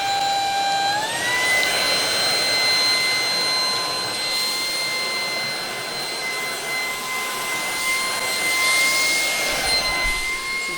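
A vacuum cleaner runs at full power for the whole stretch, used without its stick attachment, giving a loud, steady suction whine with high tonal motor notes that rise in pitch early on as it spins up.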